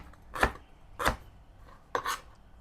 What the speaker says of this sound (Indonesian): Kita mau iris ini lengkuas ya